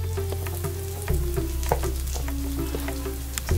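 Mysore masala dosa roasting in butter on a hot pan, a steady close sizzle and frying crackle with a few light scraping stirs and no voices.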